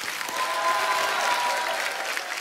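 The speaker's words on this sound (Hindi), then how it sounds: "एक बार जोरदार तालियां हो जाए।" A studio audience at a comedy talk show bursts into loud, dense applause, a steady wash of clapping that fills the whole moment.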